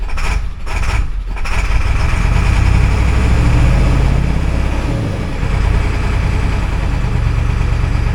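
A 7.3 Powerstroke diesel engine idles roughly and unevenly, a steady loud low rumble with a wavering pitch that dips and recovers over several seconds, close by with no talking.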